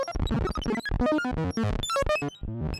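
Omnisphere synth with sample-and-hold modulation patched to pitch, spitting rapid R2-D2-like bleeps and warbles that jump randomly in pitch, loud and busy without pause.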